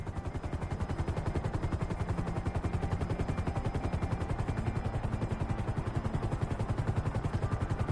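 Helicopter flying in the video game GTA V, its fast rotor chop steady and loud throughout, with a dense rhythmic thumping that fills the whole clip and no voices.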